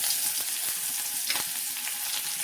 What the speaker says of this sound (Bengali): পেঁয়াজ ফোড়ন